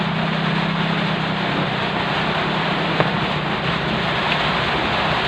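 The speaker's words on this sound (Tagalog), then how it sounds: "Nako, umuulan." Steady, dense hiss of rain falling, constant and fairly loud throughout, with a low rumble underneath.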